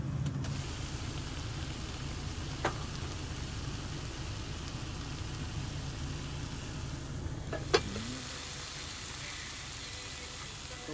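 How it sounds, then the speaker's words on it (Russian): Stuffed intestine sausage frying outdoors, a steady close sizzle running throughout with a couple of sharp clicks and a light clatter near the end. "Так, жарим все вот это дело."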